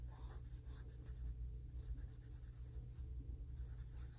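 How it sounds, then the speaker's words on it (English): Soft, steady scratching of a pencil shading across paper, close and continuous, with faint low hum underneath. "Now again, I am going to come back and shade with pencils."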